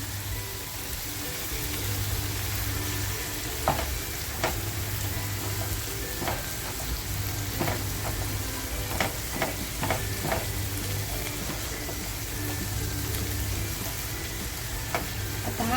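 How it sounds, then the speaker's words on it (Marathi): Onion, tomato and ground fish masala sizzle steadily in a pan for surmai fry, with a continuous frying hiss and scattered sharp clicks and scrapes of stirring, close and alone with no talk. "आपल्याला कांदा टॅमॅटो आहे ना छान असा शिजवून घ्यायचं आहे"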